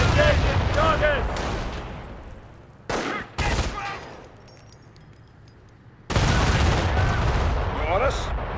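Rifle and machine-gun fire in a Company of Heroes city siege battle: loud sharp bursts of shots over shouted soldier voices, a quieter lull, then dense firing and voices resume.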